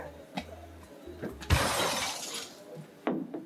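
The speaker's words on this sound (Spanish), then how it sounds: "Yo escucho como una botella, un ruido." A glass bottle smashes with a bright, loud shattering crash that scatters into a long hiss of breaking glass, with low thumps and scuffling before it and another clatter toward the end.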